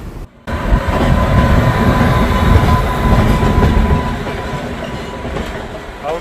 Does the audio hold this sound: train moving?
yes